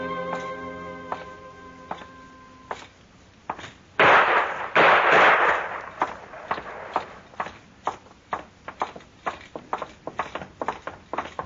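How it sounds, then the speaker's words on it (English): Gunshots ring out in a 1954 Gunsmoke Western radio drama: a couple of loud, sharp cracks partway through, followed by a string of regular knocking thuds like hurried footsteps. "Trimble come in, tried to shoot Cam Spiegel, and Cam killed him"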